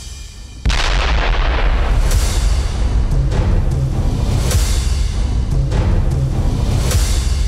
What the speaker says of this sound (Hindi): इजराइल की एयर स्ट्राइक का CCTV वीडियो भी सामने आया है, जिसमें शहर पर दनादन बम गिरते हुए नजर आ रहे हैं